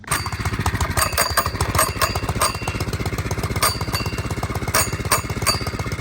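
A mini bike engine runs close and loud with a fast, steady chugging pulse and rattly mechanical texture, holding a constant pace throughout with no voices.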